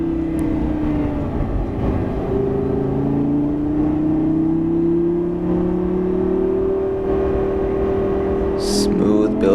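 A Lamborghini accelerating on a racetrack heard from inside: a steady engine drone that rises slowly in pitch, loud and continuous, with a brief higher whine near the end.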